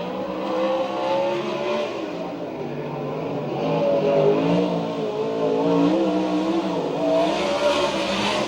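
A sprint car engine revs during qualifying at Santa Maria, its pitch swelling and easing as the car works around the track, loud and fairly close.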